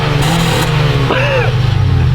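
A base eighth-generation Honda Civic with the 1.8-litre engine revs, a loud, steady, close engine drone with a brief rising swoop in the middle of the short burst.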